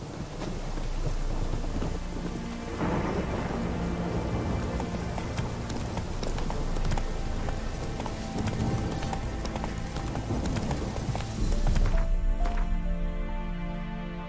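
Horse Roach gallops in The Witcher 3 with a steady, continuous run of hoofbeats, loud and near throughout, laid over rain and a rumbling stormy backdrop that thins out near the end.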